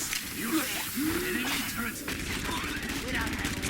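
Rapid gunfire in an Overwatch beta match, with Widowmaker shooting from a high position, continuous crackling shots under a talking voice.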